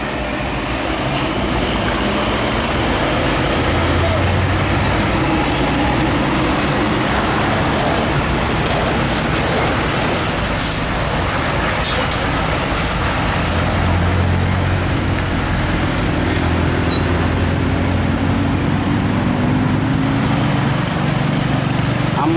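A convoy of Isuzu dump trucks grinds past one after another on a steep, winding road, a continuous loud diesel roar with swelling engine tones and road rumble, no talking.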